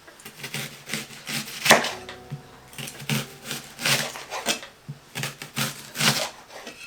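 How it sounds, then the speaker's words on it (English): Food being chopped on a board beside a pan over low heat, with a series of sharp, close, irregular knife taps in quick bursts separated by short pauses. "So keep the heat low now and quickly chop in anything you like."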